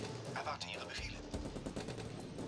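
Rapid bursts of machine-gun and rifle fire clatter through a Stalingrad battle in a World War II strategy game, loud and steady across the whole stretch, with an occasional heavy thump underneath.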